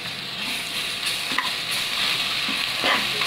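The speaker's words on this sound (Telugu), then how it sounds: "దినుసులన్నీ ఫ్రై చేసుకోవాలి" Whole spices, including star anise and marathi moggu, fry in hot oil inside a pressure cooker for egg biryani, giving a steady close sizzle with occasional stirring scrapes.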